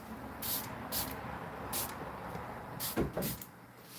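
Spray paint hisses onto a painting in short bursts, about five quick sprays spaced irregularly, close and fairly quiet, with a few soft handling knocks near the end.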